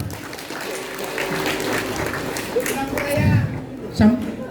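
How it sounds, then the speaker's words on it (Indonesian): A crowd applauds gamelan musicians at a Balinese bondres comedy performance in Karangasem, a broad wash of clapping with voices talking over it and a couple of louder bursts near the end. "tepuk tangan untuk penabuh"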